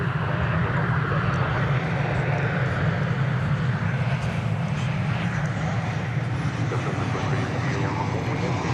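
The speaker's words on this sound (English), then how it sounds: "Here comes an Alaska Airlines MAX 8 from Seattle. No, MAX 9" Alaska Airlines Boeing 737 MAX 9 jet airliner in from Seattle at DFW Airport, a steady broad engine roar that holds level and fairly loud throughout, with no talking over it.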